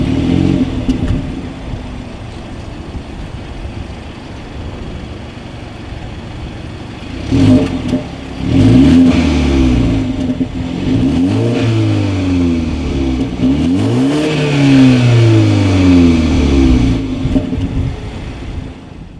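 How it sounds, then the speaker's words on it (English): 2019 BMW 330i with dual exhaust outlets and chrome tips, idling and then revved several times in rising and falling sweeps, loud and close with no talking. "As always, here is that exhaust clip."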